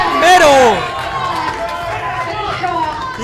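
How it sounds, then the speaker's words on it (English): Crowd at a junior men's 74–83 kg weightlifting competition cheers and hypes a lifter, a loud swelling burst of shouts and whoops that fades into steady chatter. "He got the hype from the crowd."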